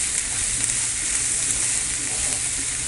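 Onions, chillies and curry leaves sauté with a pinch of salt for an egg pepper masala, giving a loud, steady sizzle and crackle that fills the whole stretch without pause.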